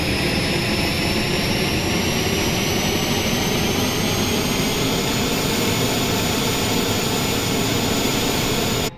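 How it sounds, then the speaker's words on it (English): An Airbus auxiliary power unit spools up in Microsoft Flight Simulator. A loud, steady turbine roar and whine holds throughout while a thin high tone slowly rises in pitch. "listening to that APU fire up"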